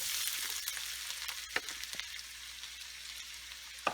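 Onions frying in melted butter, a steady close sizzle with a few small pops and stirring clicks.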